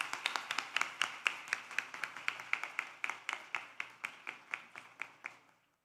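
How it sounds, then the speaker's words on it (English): Sparse, evenly spaced claps from a small audience after a children's school stage performance at a centenary celebration, about two dozen crisp hand claps at a steady rhythm that thin out and stop near the end, fairly faint and without talk. "Let us give them a huge round of applause."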